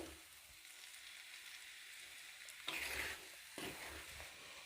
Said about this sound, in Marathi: आपण ही चटणी एखाद दोन मिनिट अजून परतून घेऊ